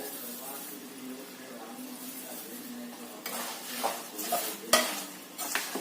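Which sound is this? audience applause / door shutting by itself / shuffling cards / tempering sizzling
tempering sizzling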